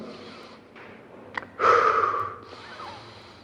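A person breathes through a closed mouth during a breathing exercise, with a short sniff followed by a long, loud nasal inhalation close to the microphone that fades out.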